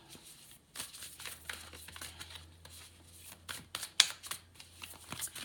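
An oracle card deck is shuffled by hand in a run of soft, irregular riffling and slapping bursts, close and fairly quiet, with one sharper snap partway through and no talking.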